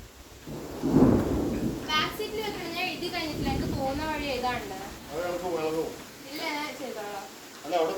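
Summer rain with thunder: a loud rumble of thunder near the start, then steady rain running under nearby voices, with children talking throughout.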